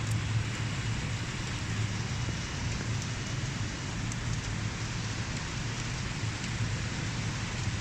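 Rain falls steadily in Singapore, a dense, even hiss of drops on surfaces with a low rumble underneath, constant and fairly faint throughout with no voices.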